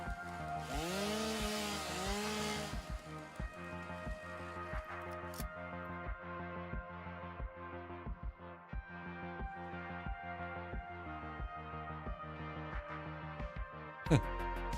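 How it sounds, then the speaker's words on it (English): Chainsaw cutting in the video game Satisfactory, an engine buzz rising and falling at first, then a long run of regular rhythmic chopping pulses under background game music. "Can I chainsaw that?"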